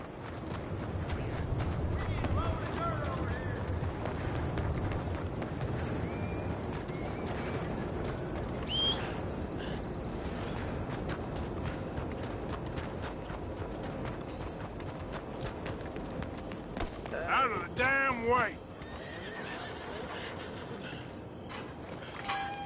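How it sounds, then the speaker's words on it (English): Horse hooves clip-clopping at a run in the Western video game Red Dead, steady and continuous under ambient game sound, with brief high calls near the end; characters talk over it. "Fine horse you got there."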